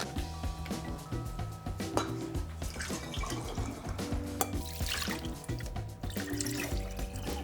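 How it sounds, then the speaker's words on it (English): Homemade apple fruit vinegar being poured into bottles, with quiet trickling liquid, drips and light clinks of glass close by, and no talking. "Let's get them out and into bottles"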